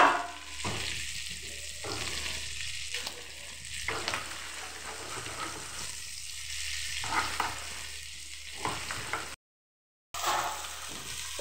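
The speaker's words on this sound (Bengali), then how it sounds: "এইভাবে সব মাছগুলো এখানে উল্টে ভেজে নেব এগুলোকে" Fish fry in oil in a pan with a steady, close sizzle throughout, broken by bursts of stirring and turning, then a brief silent gap.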